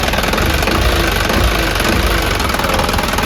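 An overhauled Isuzu 4HG diesel engine, previously blown, runs loud and close with a dense, steady rumble and knocking clatter, held at a constant throttle with no clear rise or fall in revs.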